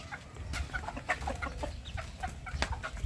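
A mother hen clucks repeatedly in short, soft bursts, with other fowl murmuring nearby in a quiet farmyard.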